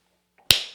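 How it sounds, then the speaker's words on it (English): A single sharp hand clap, close and crisp, with a brief decaying ring after it in an otherwise quiet room. "I'll clap first."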